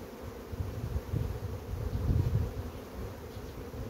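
A full beehive gives off a low, steady swarm hum that rises slightly midway, quiet and continuous with no voices.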